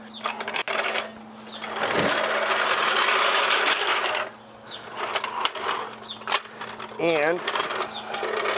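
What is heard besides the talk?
car jack lifting a Ford C-Max by the rear subframe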